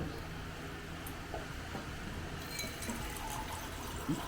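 Water poured into a pot while cooking dal makhani, a steady liquid splash over background kitchen noise, moderately faint, with a brief voice in the background.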